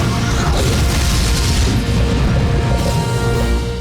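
A cartoon magma blast attack goes off as a dense, roaring explosion that fills the whole moment with rumbling, crashing noise at a steady high level.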